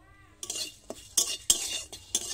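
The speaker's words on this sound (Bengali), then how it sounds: "মশলা একসঙ্গে ভাজা করে" A spoon scrapes and stirs coriander and cumin seeds with other spices dry-frying in a metal pan, giving a few bright rattling strokes over a soft sizzle, close and without talk.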